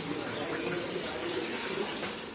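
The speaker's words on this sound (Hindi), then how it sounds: "थोड़ा पानी डाल के अच्छे से गूनेंगे।" Water runs steadily from a tap or is poured while corn flour dough for makki ki roti is kneaded, a soft continuous splashing hiss that stays faint and even.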